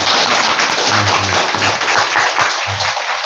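Korean church congregation applauding to encourage their evangelist, a loud dense wash of clapping filling the room, with low voices murmuring faintly underneath.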